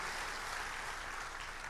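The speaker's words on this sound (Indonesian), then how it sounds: "berikan tepuk tangan yang dahsyat buat Tuhan Yesus" A church congregation claps together in a steady, sustained wash of applause, fairly distant and even throughout, with no voices standing out.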